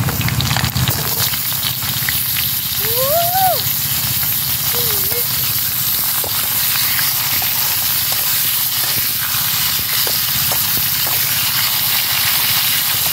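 Constant loud hiss and crackle of radish and potatoes frying together in oil in a pan, with a couple of brief squeaky scrapes early on.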